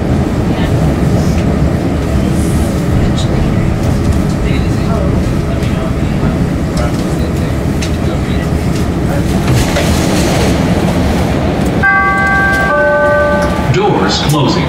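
A Chicago CTA Blue Line train bound for O'Hare rumbles loudly and steadily with continuous rail roar and clatter, and a chime of tones sounds near the end.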